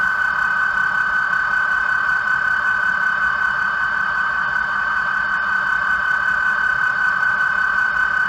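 Sound decoder aboard a model train locomotive with its throttle cracked open, giving a steady engine drone with a strong sustained tone, loud and unbroken throughout, with no voices.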